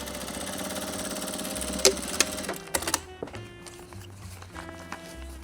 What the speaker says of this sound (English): you backtrack, backstitch, and go back over the seam